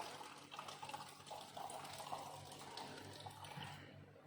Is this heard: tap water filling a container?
yes